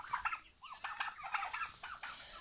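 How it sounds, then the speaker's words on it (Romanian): A turkey gobbling in a farmyard as it chases a hen, a rapid rattling series of gobbles, fairly faint and at some distance, with no talking. "cum vedeți aici am un curcan care fugărește acea curcă, vrea să calce"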